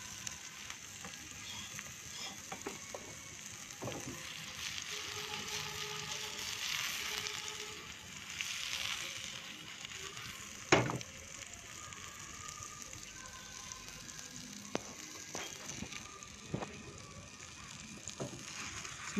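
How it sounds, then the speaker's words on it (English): Thepla quesadillas fry in oil in a pan, giving a steady hissing sizzle throughout with occasional sharper pops and clicks, close and fairly quiet, with no talking. "put some oil in the pan and add the thepla quesadillas there"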